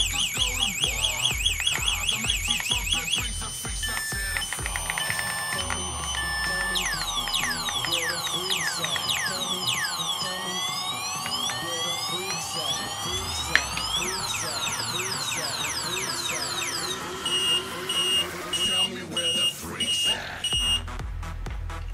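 Bicycle alarm with a key fob, set off by shaking, wails loudly and close with a warbling, sweeping electronic siren and rapid beeping patterns that run for the whole span and end in short pulsed bursts.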